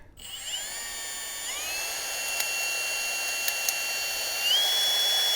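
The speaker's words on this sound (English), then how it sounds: "we're just using literally the chuck right here to spool this up" A power drill spins its chuck to spool fishing line onto an ice-fishing tip-up, giving a close, continuous whine that steps up in pitch partway through, with a few faint clicks and no talk.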